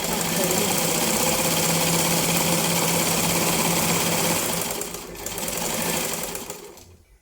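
A sewing machine runs steadily while stitching the lining of a blouse, a loud continuous motor whir that dips briefly near the five-second mark and then stops at the end.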